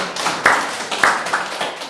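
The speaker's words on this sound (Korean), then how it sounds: "하나님께 박수로 영광 돌리겠습니다" Several sharp hand claps spaced out in a church service setting, praising God, with a hushed room tone between the bursts and no voices.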